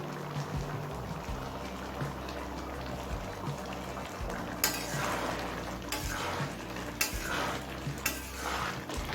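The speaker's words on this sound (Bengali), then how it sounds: "ভাজা মশলা দিয়ে ভালোভাবে মিশিয়ে নিয়েছি" Chicken ghugni with boiled potato being stirred after a spoonful of roasted ground spice powder goes in, the spoon scraping steadily around the pot over a low simmering bubble, with a few louder scrapes toward the end.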